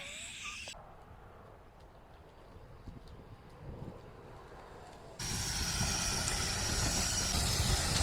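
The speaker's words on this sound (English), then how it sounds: "So while that little train is puffing and panting," Welsh Highland steam locomotive pulling carriages past at a distance: a steady rumble with soft hissing that swells much louder partway through and holds until the end, with no voices.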